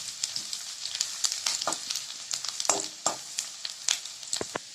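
Garlic sizzles in hot oil in a pan for mushroom soup, with crackling pops and a few sharp clinks from stirring, close and steady with no talking.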